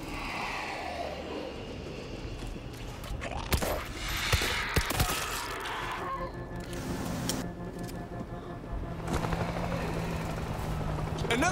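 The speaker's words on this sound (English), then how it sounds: "Another chopper!" A helicopter in a first-person shooter video game drones steadily through the scene with a broad rotor rumble, mixed with scattered game effects like thumps and bursts; players talk over it.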